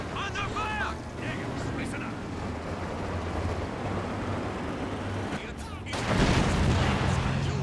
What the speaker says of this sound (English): Seems like Adamir a lot more aware of the walking Stuka attacks now.